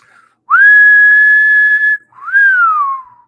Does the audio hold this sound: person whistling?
yes